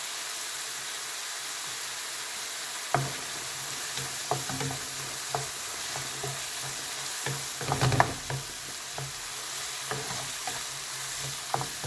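Tomatoes sauté in a pan for a coconut chana masala, giving a steady close sizzle with a few stirring scrapes and clatters, busiest near the middle, and no speech.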